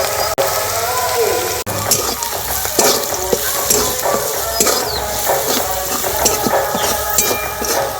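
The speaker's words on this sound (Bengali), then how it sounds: "খুব বেশি লাল করে ভাজবো না, হালকা করেই ভেজে নেব।" Boiled potatoes for a tiffin snack fry lightly in a pan, a loud constant sizzle broken by frequent clattering scrapes and taps of a spatula stirring against the metal.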